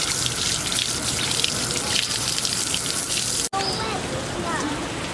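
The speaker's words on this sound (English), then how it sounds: "go wash him in the shower" Water pours steadily from a shower in a resort hotel room, a dense hissing spray that cuts out abruptly partway through, then softer splashing continues while faint voices and squeaks are heard.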